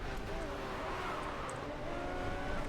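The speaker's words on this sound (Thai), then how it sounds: "ปล่อยคันเร่งเข้าโค้ง ก็จะออกตัว เร่งดีนะฮะ" A Lamborghini Reventon's engine revs steadily while pulling out of a corner in the Racing Master mobile racing game, a faint, continuous drone with a slight rise in pitch.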